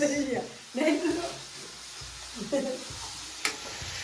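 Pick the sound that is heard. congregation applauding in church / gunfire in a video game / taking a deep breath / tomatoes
tomatoes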